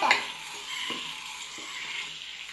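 Homemade butter simmering into ghee on a stove: a steady, close bubbling sizzle with a faint clink at the start and a few soft stirring knocks underneath. No one speaks.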